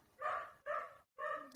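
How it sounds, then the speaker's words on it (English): A dog barks from downstairs in a house, three loud, drawn-out barks in a row with short gaps between them, heard clearly without any talk. "the dog having an absolute nightmare downstairs"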